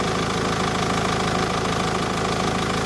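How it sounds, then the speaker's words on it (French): A warm car engine idles close by before a Mécarun additive treatment, loud and steady, with a constant low rumble and a fast, even mechanical knock throughout, no voices. "je suis en train de prendre le bruit à chaud,"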